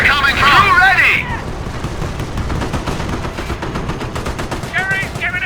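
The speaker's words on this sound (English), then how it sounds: "We are coming under fire!" Machine gun and rifle fire in the Company of Heroes video game, a dense stream of rapid shots under shouted in-game voice lines heard at the start and again near the end.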